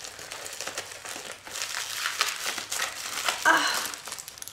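Paper and wrapping crinkle and crumple steadily as a carefully wrapped swap parcel is slowly opened, with a brief exclamation from a woman near the end.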